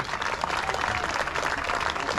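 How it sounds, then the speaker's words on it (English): Audience applause after an exhibition tennis match at a Thanksgiving event, a steady wash of clapping from a modest crowd that carries evenly through the whole short stretch. "give a round of applause"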